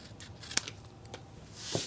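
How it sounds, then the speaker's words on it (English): Scissors snip along a score line in a paper pie box: a few faint, brief cuts and a sharp click in a quiet room, with a soft rustle of paper near the end. "cut that score line, and then over here we're going to cut this score line"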